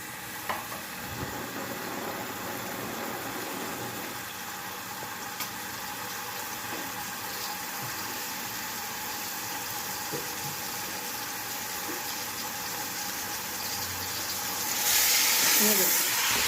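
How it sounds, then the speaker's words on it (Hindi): Chicken frying in oil in a pan, a steady close sizzle with occasional stirring scrapes, growing louder and hissier near the end. "अब इसे हम ऑयल में ना फ्राई कर लेंगे।"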